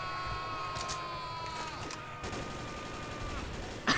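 Gunfire from the Left 4 Dead zombie shooter game, a few short bursts spread through the clip amid constant game noise with tonal music, and one loud close crack at the very end.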